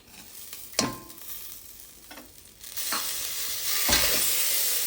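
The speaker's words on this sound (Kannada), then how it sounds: "ಇದಕ್ಕೆ ಹಾಕಿ ಸ್ವಲ್ಪ ಫ್ರೈ ಮಾಡ್ಕೊಳ್ತೀನಿ." Soaked sago for jaggery payasa fries in a pan, a steady close sizzle that swells louder partway through, broken by a few sharp scrapes of a stirring spoon against the pan.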